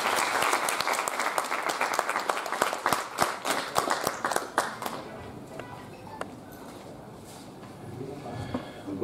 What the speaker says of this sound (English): Please join me in giving a warm round of applause to Mr.